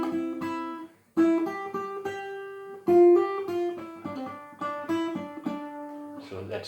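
Solo guitar playing a melodic figure from a song, single plucked notes ringing clearly with short pauses between phrases, close and alone.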